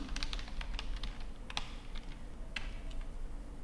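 Computer keyboard typing while entering a field name in ERP business software, a steady run of close, crisp key clicks at an irregular rhythm for several seconds, with no talk.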